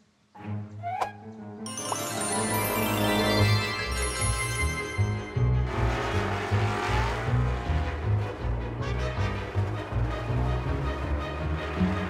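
Cartoon car speeding away with tire-squeal and engine whoosh effects over a bouncy children's animation music score, loud and continuous with no talking.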